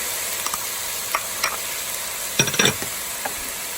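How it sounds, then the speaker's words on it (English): Fried rice with garlic, soy sauce and sesame oil sizzles softly in a pan while a spatula stirs and scrapes in a few distinct knocks, a louder cluster of scrapes near the end, with no talk. "Just give that a little bit of a stir."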